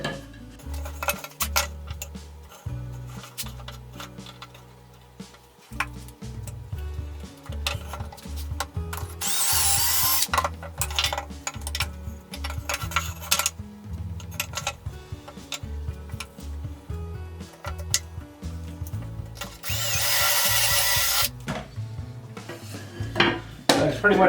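A Kreg pocket-hole jig is used in a woodworking shop while a simple bedside table is being built. A drill whines in two short bursts, and clacks and knocks of wood and tools sound between them.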